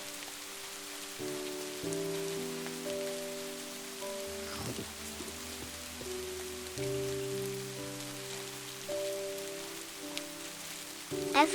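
Rain falls on a cozy cabin on an evening, a soft, steady patter heard alone under gentle sustained tones that fill the quiet scene.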